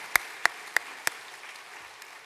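A church congregation claps in unison during a Sunday service, four sharp, evenly spaced claps ringing out loudly before dying away into quiet with a faint trailing tap.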